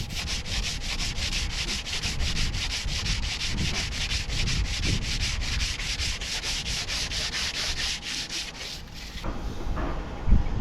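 A narrowboat's steel hull is sanded after filling, before painting. Close, continuous abrasive rubbing strokes repeat in a quick, regular back-and-forth rhythm, with no talking.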